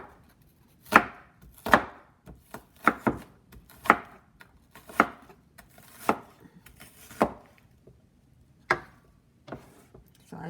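A knife chopping an onion on a board, about a dozen sharp, close thunks at an uneven pace with short pauses between them, no talking.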